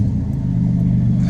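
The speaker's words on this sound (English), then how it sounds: "Fires right up after like 2 months of not running." An old Buick car engine, left unused for about two months, rumbles loudly and close at a steady idle just after starting, with a low even throb throughout.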